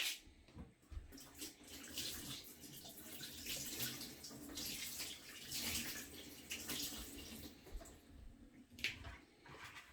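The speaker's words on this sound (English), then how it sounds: "So I'm just going to wash my hands and then get started." Hands washed under a running kitchen tap before cooking curry prawns, a soft continuous flow of water with splashing and rubbing that rises and falls, quiet and close, with no talking.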